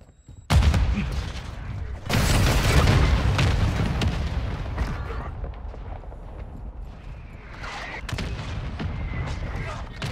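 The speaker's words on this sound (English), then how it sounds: "Friendly mortar strike inbound." Mortar strike explosions in Call of Duty Modern Warfare 2, a series of loud, heavy booms and rumbling blasts rolling over one another with scattered gunfire and battle noise.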